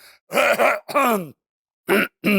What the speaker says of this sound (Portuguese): deu um pigarro, não foi?